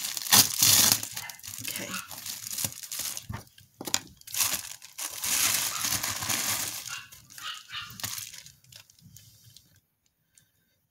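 Paper envelope torn open by hand with a notch cut first, giving bursts of crinkly ripping and rustling over several seconds, close by, with a brief spoken word in between.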